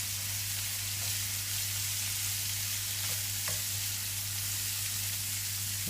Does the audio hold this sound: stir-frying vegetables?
yes